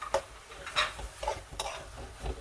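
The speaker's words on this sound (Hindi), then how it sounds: "इतना भूनेंगे कि टमाटर जो है अपना जूस छोड़ दें, गल जाए" Tomatoes for a dhaba-style Peshawari aloo qeema are stirred in a pan, with repeated scraping strokes of a spoon against metal over a faint background sizzle.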